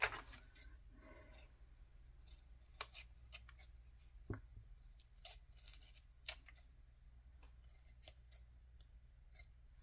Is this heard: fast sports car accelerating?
no